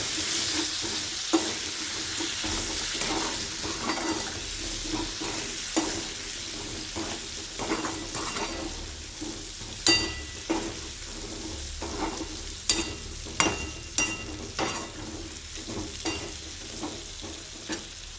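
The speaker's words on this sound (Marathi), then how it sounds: "परतून घ्यायचं आहे चांगलं" Steady frying sizzle as drumsticks are sautéed with salt in a pan, with repeated scraping and stirring clicks, close and continuous, no voices.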